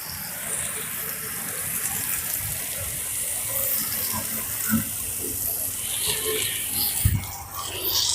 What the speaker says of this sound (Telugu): ఇప్పుడు ఆల్రెడీ మనం మొలకలు వచ్చిన తర్వాత జస్ట్ రోజు ఇలా జల్లు మాదిరిగా తడుపుకుంటాను